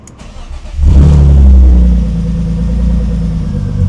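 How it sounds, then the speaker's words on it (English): A BMW E36 engine cranks briefly and catches, revving up loudly and close, then settling into a steady, rumbling idle. "And after that, we will start our vehicle."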